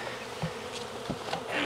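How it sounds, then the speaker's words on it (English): A very big honeybee swarm settling in a swarm trap in Jacksonville, Florida, in late May, giving a steady, close insect buzz with a few brief louder swells of wingbeats. "Very big swarm in a swarm trap."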